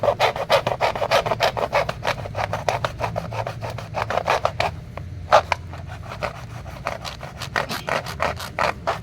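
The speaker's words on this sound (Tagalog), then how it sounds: "So lagari lang ang katapat" Hand saw cutting through a papaya trunk, with a steady run of rasping strokes that pauses briefly midway and then resumes, close and fairly loud, with no voices.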